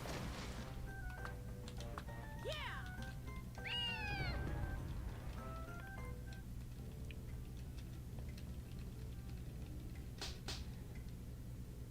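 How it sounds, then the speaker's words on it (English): A cat meowing in a video game, a few short rising meows in the first half over a constant low background hum and ticking, faint and fairly distant, with no voices. "Alright, I captured a cat, now what?"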